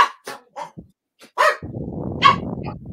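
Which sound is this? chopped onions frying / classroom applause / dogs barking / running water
dogs barking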